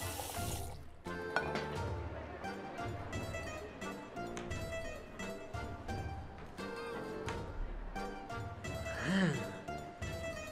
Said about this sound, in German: Wenn man beide Hähne aufmacht, passt doppelt so viel Wasser rein.